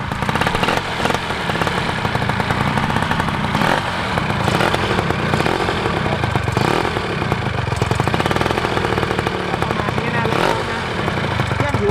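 Small motorcycle engines, a Phantom 200, VR150 and Dio50, running continuously with a steady, even idle and light mechanical clatter, close and moderately loud, while people talk nearby.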